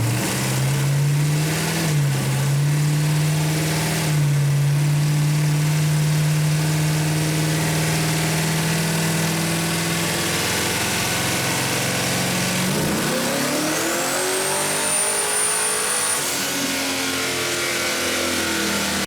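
A twin-turbo 488ci Camaro engine on a dyno drones loudly at steady high revs, then the pitch sweeps upward as it winds out, with a rising turbo whine near the end.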